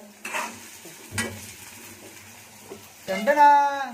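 Vegetables — cauliflower, capsicum and beans — frying in a pan in a home kitchen, with soft sizzling and stirring scrapes, a brief clatter of utensils, and voices talking nearby.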